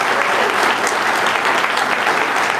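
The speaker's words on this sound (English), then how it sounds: "let's give them a big round of applause" Sustained applause from an audience honoring event organizers at the opening of a mining exhibition in Labrador West, dense and steady throughout without pause.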